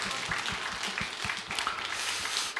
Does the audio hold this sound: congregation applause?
yes